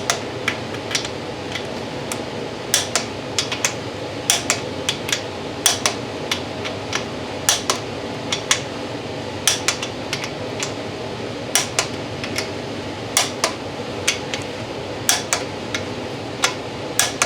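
A torque wrench works on a 1965 Ford Mustang during a mechanical rebuild, giving sharp metallic clicks and ticks scattered irregularly over a low workshop hum, close and alone with no talking.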